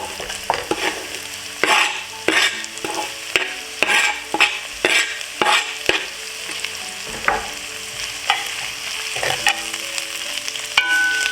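Minced garlic and cilantro sizzle steadily in a hot pan on a stove, with a dozen or so sharp scraping stirs landing at an irregular pace over the continuous frying hiss.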